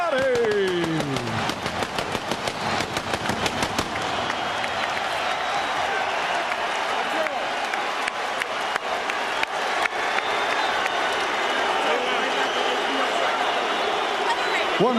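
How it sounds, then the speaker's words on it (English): A boxing arena crowd applauds and cheers after the unanimous decision in the third Arturo Gatti vs Micky Ward fight in 2003, a loud, dense and steady roar under a ring announcer's voice. "a round of applause for Irish Micky Ward and Arturo Thunder Gatti"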